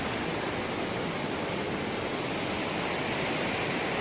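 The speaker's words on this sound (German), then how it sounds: "Ich muss den Fluss hier mal verklagen. Der ist so laut." A constant, loud roar of rushing water filling the space, steady and unbroken throughout with no other sounds standing out.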